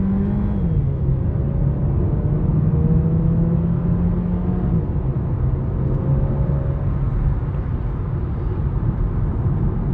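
A 2023 Mercedes-Benz A200 with a 163 hp engine and dual-clutch gearbox accelerating hard. The steady, loud engine drone shifts pitch as the transmission kicks down, then climbs under a constant road rumble.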